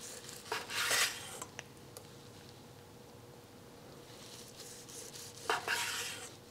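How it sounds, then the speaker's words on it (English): A knife slicing through smoked brisket on a cutting board, two short bursts of cutting and scraping separated by a quiet stretch with faint taps, close and fairly soft, no speech. "let's get some slices in here"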